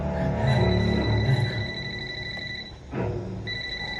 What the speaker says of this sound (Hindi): जीजा का फोन आ रहा है।